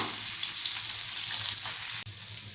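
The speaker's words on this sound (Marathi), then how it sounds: "आता मीडियम गॅसवरती एका साईडनं दोन तीन मिनटं फ्राय करून घेऊया" Mandeli fish fry in oil in a pan over a medium gas flame, giving a steady bright close sizzle with a brief dip near the end.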